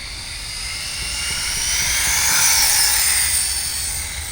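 Arrma Typhon RC car running its electric motor at full throttle on a 3S battery, a high-pitched whine that rises and fades as it speeds past on a street, loud and with no talk.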